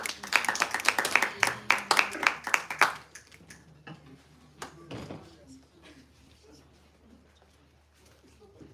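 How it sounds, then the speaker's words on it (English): A small group claps briskly at a campus speaking contest, loud and close for about three seconds, then fading into scattered claps with a brief voice and room noise. "A round of applause at least when they take up the stage."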